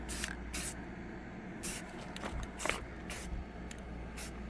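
Bursts of aerosol spray paint hiss out in light coats over a pair of speakers, several short sprays in steady succession over a low background hum.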